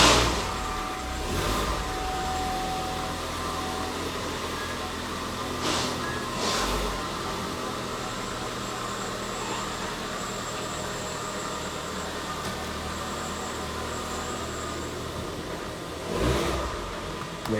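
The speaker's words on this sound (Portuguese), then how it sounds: "Deixa só o carro sair aqui." A car pulls away outside, its steady mid-pitched engine hum and road noise holding at moderate loudness for several seconds, with a few brief sharper bursts along the way and no talking.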